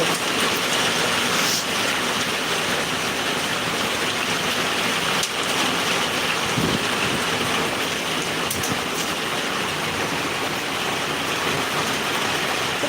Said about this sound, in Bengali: সিল নিশ্চয়ই পড়ছে কারণ নাহলে এরকমভাবে টিনের মধ্যে আওয়াজ হয় না